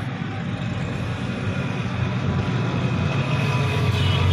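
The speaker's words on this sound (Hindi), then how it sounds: "इंजन बिल्कुल फिट है, मैंने अभी स्टार्ट किया तो किसी तरह का कोई मसला नहीं है" Engine of a 1997 Suzuki Mehran running steadily, a continuous low rumble with an even, unchanging drone, fairly close and with no voices.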